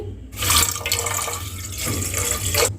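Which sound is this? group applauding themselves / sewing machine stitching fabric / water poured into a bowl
water poured into a bowl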